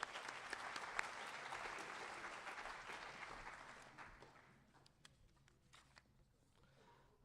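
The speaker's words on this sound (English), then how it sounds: "Let's give them a round of applause." Audience at an agricultural program spring banquet clapping loudly for several seconds, then the applause thins out and fades to a few scattered claps near the end.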